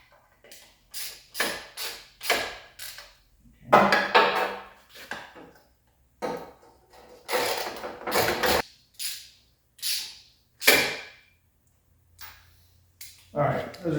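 Nuts being threaded and snugged onto bolts on a cleaned-up Porsche 911 engine during a teardown, with intermittent metallic clicks, scrapes and ratcheting bursts separated by short pauses, close and moderately loud, while someone talks in between.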